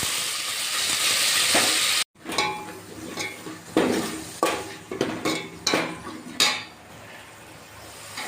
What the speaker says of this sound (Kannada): ಶುಂಠಿ ಬೆಳ್ಳುಳ್ಳಿ ಪೇಸ್ಟ್ ಹಾಕ್ತಿದ್ದೀನಿ.